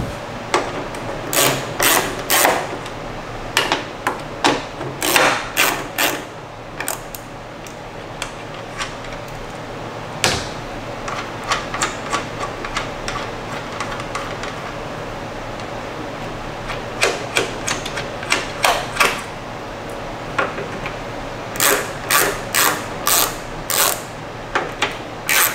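A ratchet removes the four nuts holding a 2014-2021 Lexus IS taillight, giving bursts of rapid close clicking separated by pauses and a few knocks.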